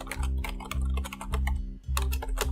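Java code is typed on a computer keyboard in quick, steady bursts of close key clicks, with a brief pause before the typing resumes, alone without talk.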